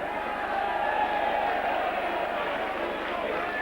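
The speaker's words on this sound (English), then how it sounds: "Quite a decent crowd assembled here at Knowsley Road" A steady, dense roar from the rugby league crowd at Knowsley Road stadium, St Helens v Castleford, continuous and broad throughout, with a commentator talking over it.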